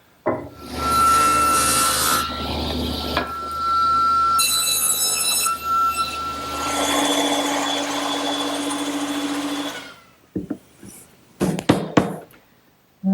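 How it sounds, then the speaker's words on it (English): A handsaw cuts a wooden tenon on the end of a bench support in a woodshop, giving long, rhythmic rasping strokes, loud and close, before ending in a few knocks. "Now I need to cut a tenon on the end of those intermediate supports"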